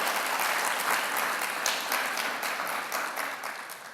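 Sustained applause from a church congregation, a dense steady clatter of clapping that eases off slightly toward the end.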